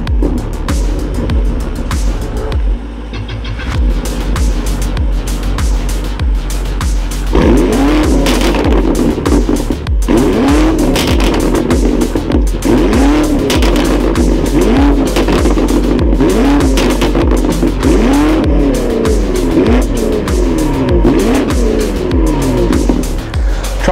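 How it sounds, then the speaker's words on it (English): A 2021 BMW M5 Competition with an optional titanium exhaust and carbon-finish tips, heard loud and close as the engine revs and rises repeatedly in pitch, with possible tire squeal. "We've got a titanium exhaust with a carbon finish at the tips."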